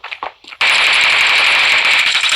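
Rapid automatic gunfire in the mobile shooter Standoff 2 erupts after a few brief, scattered game noises, then continues as a loud, dense burst to the end.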